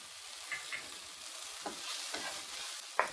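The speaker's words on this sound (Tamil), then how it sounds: "இது எல்லாத்தையும் நல்லா மிக்ஸ் பண்ணி விட்டுருங்க." Eggs with pepper powder and salt being mixed in a hot pan: a faint soft sizzle under a few light spatula scrapes, ending on a sharper clink.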